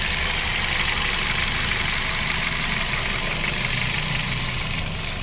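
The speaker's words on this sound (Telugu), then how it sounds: "చూడండి సార్ ఇంజన్ సైలెంట్గా ఉంది." A 2013 Hyundai i10 Magna with a 1.2 Kappa2 petrol engine idles steadily, a smooth even hum with a faint ticking pulse running through it, heard up close and alone for the full stretch.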